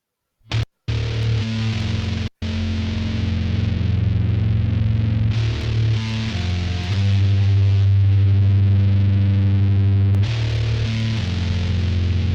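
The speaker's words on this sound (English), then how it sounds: "It's picking, but really heavily distorted." Loud, heavily distorted electric guitar picking with sustained, buzzing tones, cut by a couple of brief silent gaps near the start.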